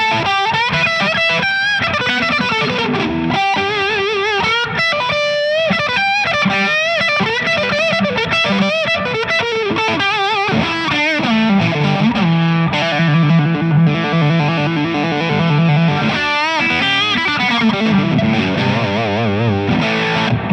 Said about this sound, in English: Wash of the reverb, right?